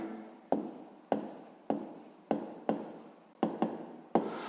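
Pen or chalk strokes of a math solution being written out, about eight short scratchy bursts in an irregular rhythm, close and fairly quiet, with no talk.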